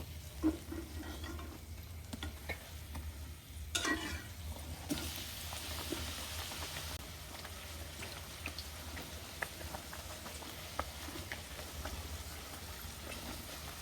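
Luchi, puffed pumpkin bread, fries in hot oil with a quiet, continuous sizzle and scattered small pops, a brief stronger burst partway through, close by with no talk.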